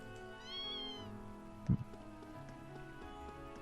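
A cat meows in the video game Trails of Cold Steel: a short rising and falling mewing call over steady game music, followed by a brief thump, no talking.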